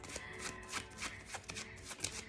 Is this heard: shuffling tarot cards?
yes